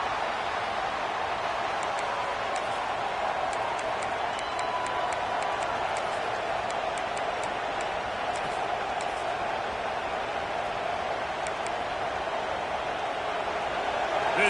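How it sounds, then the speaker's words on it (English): Steady, dense roar of a football stadium crowd rising during a college game against North Texas, with broadcast commentary over it and scattered bright claps and shouts. "This crowd rising up, sensing that its defense needs some help."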